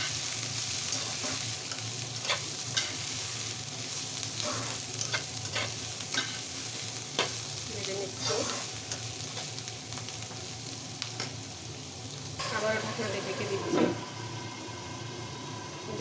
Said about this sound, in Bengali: ভাজিটা ভালো করে নেড়ে ফিরে লাল লাল করে ভেজে নেবেন আলু